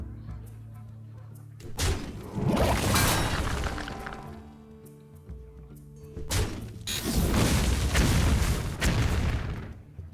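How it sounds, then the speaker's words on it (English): Bombs exploding in the Hearthstone card game, two heavy booming bursts several seconds apart, each with a crashing, shattering tail over low background music. "Bombs everywhere."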